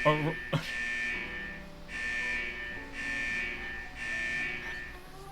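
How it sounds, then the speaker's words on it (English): Repeating electronic alarm from the video game Snowbreak, a bright steady tone sounding in four pulses of about a second each, with a sharp click near the start and low game background beneath. "I kind of thought that the alarm meant there was a fire alarm going off in my house"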